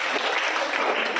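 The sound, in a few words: applause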